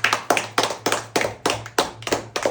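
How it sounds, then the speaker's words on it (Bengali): A family claps during a spin-the-wheel pot game, about ten quick, sharp, evenly spaced claps ringing out close and loud. "তালিয়া তালিয়া"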